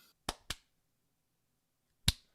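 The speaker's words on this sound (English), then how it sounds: "clapped a bit" Three sharp hand claps used to check a voice call for echo: two quick claps close together, a pause of about a second and a half, then a single final clap, all close and crisp in near silence.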